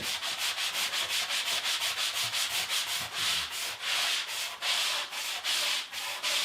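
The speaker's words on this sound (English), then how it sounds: "I don't want to sand a lot because, you know, it gives you the willies to hear it" Sandpaper scrapes back and forth across drywall in steady, rhythmic strokes, close and fairly loud, with no talking.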